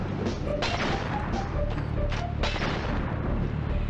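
Explosions in the Crash Bandicoot video game, a dense run of booming blasts and crashes over constant loud game noise and music, with several sharp bursts in quick succession.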